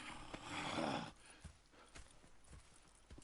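Horse hooves clip-clop at a walking pace in Red Dead Redemption 2, a burst of louder ambient noise at the start giving way to steady, fairly close hoofbeats alone.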